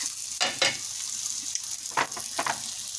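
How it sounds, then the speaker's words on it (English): Mushrooms fry in butter with dried garlic in a pan, giving a steady close sizzle broken by a few sharp stirring scrapes. "I'm cooking up some mushrooms at the moment, and I've cooked them in a bit of butter and dried garlic"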